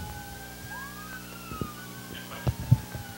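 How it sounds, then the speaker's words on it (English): Police sirens passing outside, faint wailing tones sweeping up and down in the distance behind a few soft knocks and thumps, with no talking over them. "I was pausing for the sirens."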